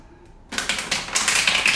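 After a brief quiet moment, tarot cards are shuffled briskly up close, a quick run of crisp riffling clicks and flutters.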